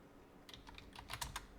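Quick bursts of keystrokes on a computer keyboard as a comment is typed, faint and close, a handful of clicks in an uneven rhythm.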